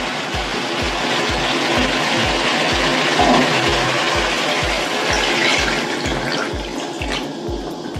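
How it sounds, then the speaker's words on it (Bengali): Water pours steadily into a pot of fried potatoes being made into curry, a continuous splashing stream with a rhythmic low thumping underneath, close and fairly loud throughout. "এবার ঝোলের জন্য জল দেব"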